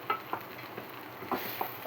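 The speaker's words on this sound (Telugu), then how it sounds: "పైనుంచి కొంచెం కొత్తిమీర ఇట్లా వేసుకొని కలుపుకోవాలి." Fresh coriander is stirred into mango dal in a pot, giving a few soft scraping strokes and light splatty taps over a low bubbling sizzle, close and with no speech.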